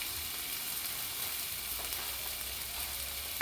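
Steady, even sizzle of tilapia and lote fish frying in hot oil as spice paste is added, a close hiss with no talk over it.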